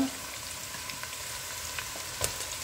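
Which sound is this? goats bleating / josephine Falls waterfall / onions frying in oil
onions frying in oil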